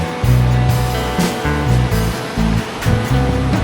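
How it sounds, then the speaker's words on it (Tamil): Flash-flood river rushing down a mountainside in Thailand, a loud, close roar of fast water with uneven, buffeting surges. "சத்தம் உங்களுக்கு கேட்குதுங்களா? காட்டாற்று வெள்ளம்."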